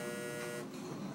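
A game buzzer from Halo 4 sounds as a steady, close electronic drone that fills the moment and eases off slightly partway through, with no talking.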